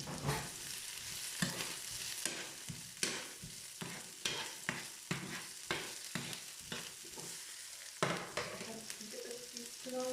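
Onions frying in a pan over moderate heat ahead of a risotto, a soft steady sizzle broken by regular scraping strokes of stirring, close and fairly quiet.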